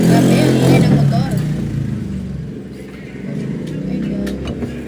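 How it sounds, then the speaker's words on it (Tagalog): A loud motorcycle roars past outdoors, its engine swelling then fading, while people talk nearby over the noise. "Grabe, ang ingay ng motor."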